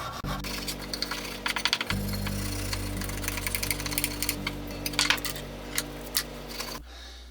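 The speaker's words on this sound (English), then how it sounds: "After going over that little flat spot right there with the sandpaper, I've got that spot flattened out, most of the rust taken off of it." Sandpaper rubs over a rusty flat spot on a small Harbor Freight rebate plane, giving short scratchy strokes and gritty rasps over a constant low electrical hum that cuts out near the end.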